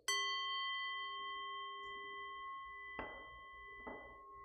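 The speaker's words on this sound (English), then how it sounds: "this is a little Tibetan bowl" A small Tibetan singing bowl struck once, giving a bright ringing tone with long sustained overtones that slowly fade, followed by a couple of faint soft knocks while the ring continues, close and quiet.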